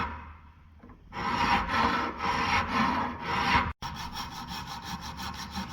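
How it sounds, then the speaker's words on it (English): Coarse file rasping metal while relining a Winchester 1892 barrel, a run of strong back-and-forth strokes, a brief pause, then quicker, lighter regular strokes, close and alone. "just starting off with a coarse file here, just to get rid of some of the bulk of the material"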